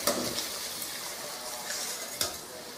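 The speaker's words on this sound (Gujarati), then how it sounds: "હવે ભૂંગળા તળી લઈશું।" Bhungla dropped into very hot oil for frying, giving a steady close hissing sizzle with a few sharper pops and spatters, with no voices.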